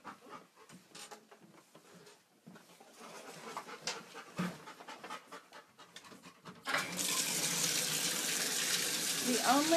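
A dog pants quickly and unevenly while standing in a bathtub. Partway through, the tap opens and running water fills the sound with a loud, steady rush.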